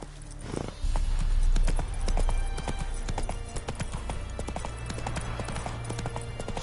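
Hooves clip-clop in a fast rhythmic gallop across a meadow in The Witcher 3: Wild Hunt, a close, steady drumming of impacts with low rumble beneath, holding on evenly after a brief start.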